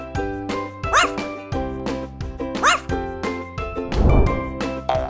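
A dog barks and yips a few times, close and fairly loud, over a musical backing with tinkling sounds.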